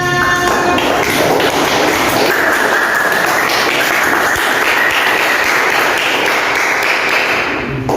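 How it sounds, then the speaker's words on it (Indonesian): Children in a classroom clapping their hands together, a loud, dense, continuous burst of clapping lasting several seconds before it tapers off. "Tepuk tangan untuk kalian semua."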